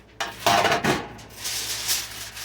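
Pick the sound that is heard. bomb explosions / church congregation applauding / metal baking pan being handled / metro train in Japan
metal baking pan being handled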